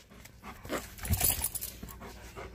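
A dog pants close by in quick, breathy bursts, with a faint jingle of tags or keys in the background.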